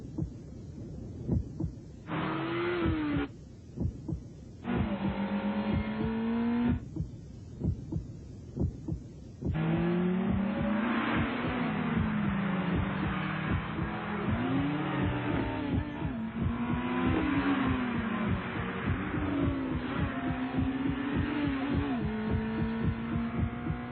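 Engine of a 200-horsepower Acura RSX car in a TV commercial, a throbbing, pulsing rumble with rising revs mixed under music-like tones, continuous and prominent, no talking.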